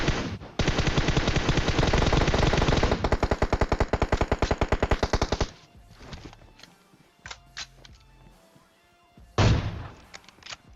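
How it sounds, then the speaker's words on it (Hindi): Gunfire in the mobile battle-royale game PUBG Mobile, with a long, loud stretch of rapid back-to-back shots followed by a few scattered single cracks and quieter game sounds. "यहाँ से स्नाइपिंग करने की मैं कोशिश कर रहा हूँ"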